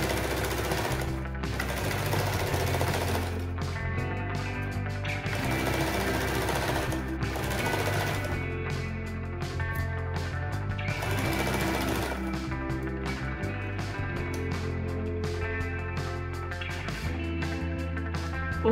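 A sewing machine stitches a long seam down the center front of an apron bib, joining main fabric to lining; steady loud mechanical whirring runs almost continuously with brief pauses and speed changes, no talking.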